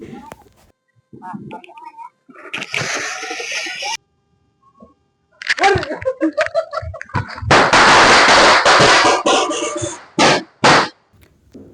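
Several sharp firecracker bangs and crackling bursts on the eve of Vishu, some in rapid clusters, separated by short gaps with faint voices in between.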